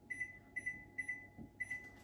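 A digital kitchen timer being set emits short, high, clean double beeps repeated at a steady rhythm, close and fairly quiet over faint room noise.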